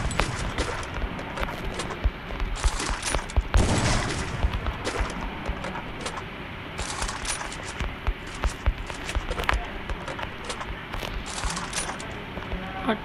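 Rapid gunfire from the Free Fire mobile game, a dense stream of sharp shots and bursts in a custom match with friends, loud and continuous throughout with scattered louder cracks.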